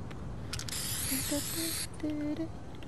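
A rainbow spray-paint can is sprayed in Fortnite, giving a steady airy hiss for about a second and a half, framed by short electronic tones and faint game sounds.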